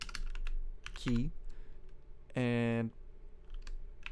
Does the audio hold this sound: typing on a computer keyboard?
yes